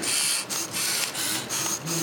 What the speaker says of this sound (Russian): Этому принтеру не нужны чернила, достаточно вставить маркер